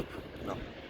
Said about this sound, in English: We're gonna give to you another plane taking off right here to the airport.